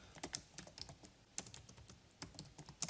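Quiet, irregular keystrokes tap on a computer keyboard as notes get typed out, a soft uneven patter of clicks with brief pauses between bursts.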